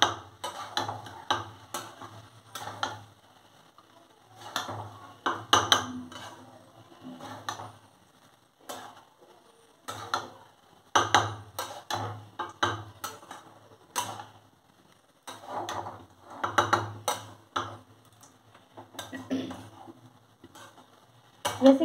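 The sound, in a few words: stirring rice with spices in a pan for lemon rice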